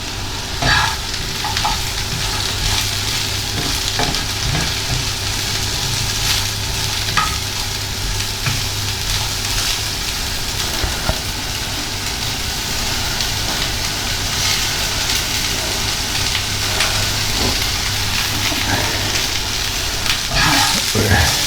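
Steady, loud sizzling of pork belly frying in a hot pan with leftover pork fat, with occasional clinks and scraping of stirring throughout.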